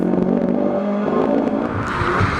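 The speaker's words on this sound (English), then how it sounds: "The engine sounding a little sick here." Mark I Ford Escort RS 1600 historic rally car running rough on a Galway International Rally stage, its engine droning continuously with uneven revs close by, no voices.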